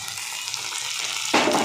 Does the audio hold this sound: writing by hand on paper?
no